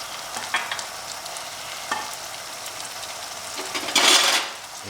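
Onions and garam masala fry in a pan under a soft, even sizzle, broken by a few scraping stirs and a louder hiss near the end as they are mixed.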